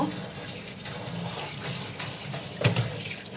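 Sliced ash gourd being washed in water in a home kitchen: steady running and splashing water, close and continuous, with a brief clattering splash near the end.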